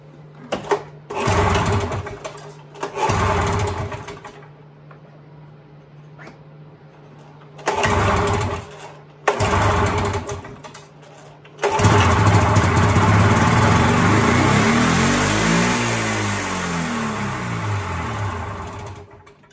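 A Ski-Doo 377 Scandic snowmobile engine being pulled over in short sputtering tries, then catching and running with a buzzy two-stroke drone that rises and falls as it revs, loud and close.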